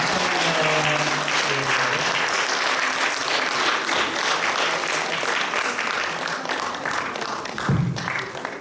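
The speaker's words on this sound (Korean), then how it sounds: "뜨거운 박수로 한 번 더 축하드립니다" Congregation at a church ordination service breaks into warm, sustained applause that fills the room steadily from start to finish, with a brief low thump near the end.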